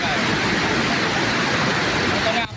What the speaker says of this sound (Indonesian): Beginilah saat debit air Sungai Bendok Krosok yang melintas di kawasan Kecamatan Banyakan, Kabupaten Kediri, Jawa Timur meluap